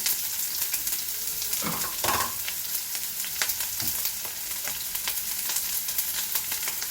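Mustard seeds and onion sizzle in hot oil in a pan, a bright continuous crackle with scattered sharp pops and a couple of stirring scrapes, close and fairly loud.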